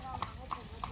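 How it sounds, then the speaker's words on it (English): Horses pulling buggies along a tree-lined lane at Vrelo Bosne nature park in Bosnia and Herzegovina, with three or four crisp, evenly spaced hoof clops over a constant outdoor murmur. "watch these horses and buggies go by"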